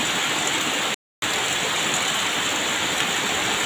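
Heavy rain pours down in a loud, dense, continuous hiss, broken only by a brief gap of silence early on.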